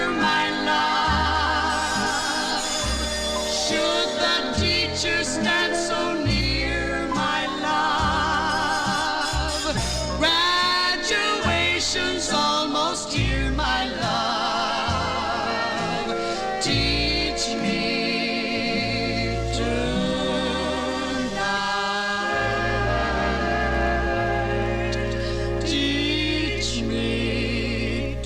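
A 1954 song playing from a vinyl 45: close three-part female vocal harmony over a full band, loud and steady throughout.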